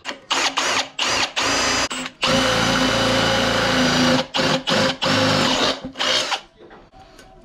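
A power drill bores a 1/2-inch hole for an IAT sensor on a 2006 Acura TL intake, with short whirring bursts followed by one long steady run, then more brief stop-start pulses, all loud and close.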